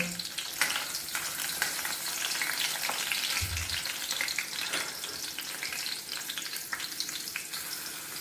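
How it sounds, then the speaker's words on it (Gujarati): Seven or eight garlic cloves fry in hot oil for Kathiyawadi baingan bharta, producing a steady, close sizzle with scattered crackles and a brief low clunk partway through. "હવે તેમાં 7 થી 8 કળી લસણ નાખીશું।"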